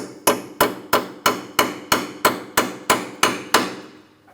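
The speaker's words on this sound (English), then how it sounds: "Since mine is rusted, I'll just tap that socket into place." A hammer taps a socket onto a rusted sway bar link nut on a 2003-2007 Cadillac CTS, ten evenly spaced sharp metallic strikes, close and loud, with no talking.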